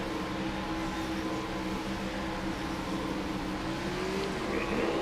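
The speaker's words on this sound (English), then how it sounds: "I hear a lot of high RPMs around me" Several high-revving race car engines drone steadily around the listener during a Richmond cup race in a racing game, a continuous layered whine with one pitch rising near the end.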